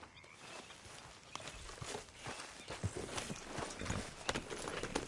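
Horse hooves clip-clop along in Red Dead Redemption 2, a quiet, fairly regular patter of hoofbeats with ambient game background and no talking.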